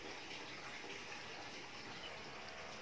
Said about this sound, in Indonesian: Ini aku isi lagi ya kolamnya supaya